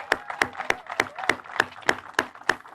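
Applause at a public library digital inclusion press conference, heard as a steady run of evenly spaced, crisp claps about three per second, close and moderately loud.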